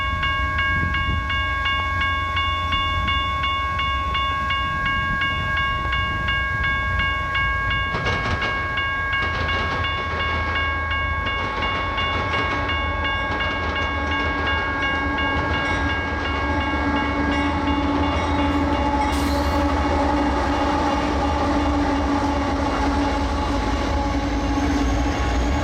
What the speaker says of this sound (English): Another eastbound intermodal train on the UP is in the picture now, and one that is red hot.